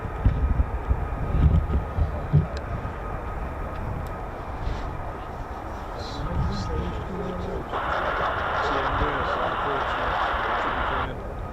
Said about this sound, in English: This is the Embraer Phenom of Cranwell. Looks like it's doing a circuit.